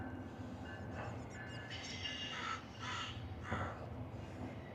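A crow caws several times in a riverside park, its harsh calls fairly close over a quiet outdoor background with a low steady hum.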